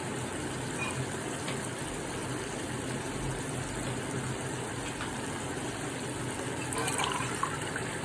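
Water being poured into a cooking pot while making a one-kilogram batch of chicken biryani, a steady, continuous splashing wash heard fairly close and alone, swelling briefly louder near the end.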